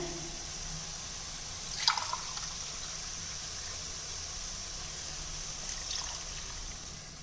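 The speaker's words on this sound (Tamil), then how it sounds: "இப்போ இதுலேயே தண்ணியும் தேங்காய் பாலும் அளந்துக்க போகிறேன்" Water and coconut milk are poured into a tumbler to measure them for white biryani, giving a soft, steady trickling stream with a small splash partway through. No one speaks.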